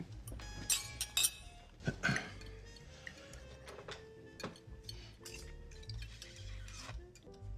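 Glasses clink together in a toast, a few bright high chinks early on, then faint ticks and light tapping in a quiet room.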